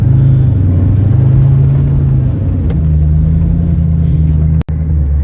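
A Ford SVT Mustang Terminator Cobra V8 idles with a steady, deep rumble close by; the tone shifts slightly partway through, then a brief dropout occurs near the end.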